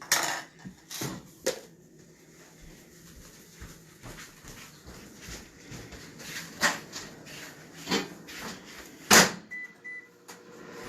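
Clattering kitchen noises as a lid is put on a dish of spiralized vegetables, dishes knocking, scattered clicks and thumps, then a short microwave beep near the end.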